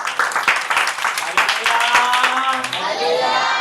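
A church congregation claps during a sermon, sharp scattered handclaps ringing close and fast, then thinning as a voice begins speaking over the end.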